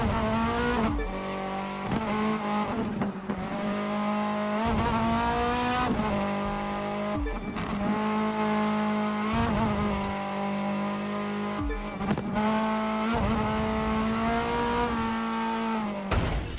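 A car in The Crew 2 video game drives hard with a sustained engine drone and repeated tire squeals, broken by brief gear-shift drops at a steady pace, loud and continuous throughout with no talk.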